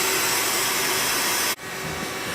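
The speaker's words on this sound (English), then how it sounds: "Okay, we'll spray it one more time" A steady, loud hiss of rust-protection spray coats the exposed metal surfaces of a DMC125FD machine during shipping prep. It cuts off sharply partway through, then a quieter hiss resumes.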